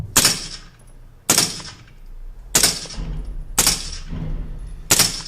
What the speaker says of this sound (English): This is the sound of a suppressed AR-15.